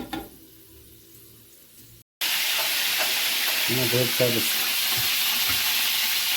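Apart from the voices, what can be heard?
chicken meat frying in a pan for homemade doner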